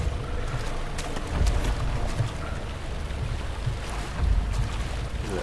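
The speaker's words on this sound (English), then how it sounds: "Look at that water. So realistic." Water ambience in the horror video game Amnesia: The Dark Descent: a continuous wash of lapping, surging water with low rumbling swells and gusty noise, moderately loud, with no talking.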